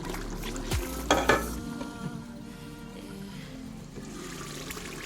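Tomatoes cooking in a pot for Nigerian jollof with vegetables, giving a soft, steady sizzle and bubble with a brief stirring clatter near the start, low and close.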